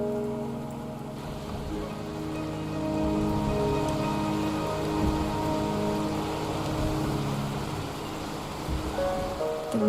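Steady rain in the video game Wuthering Waves, a dense, continuous hiss of falling water with low layered ambient tones beneath, holding at an even moderate level throughout with no speech.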